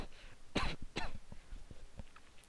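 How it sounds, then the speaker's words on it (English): Two sharp coughs close to the microphone, followed by a few faint clicks and soft thumps from a video game playing quietly underneath. "I had to cough"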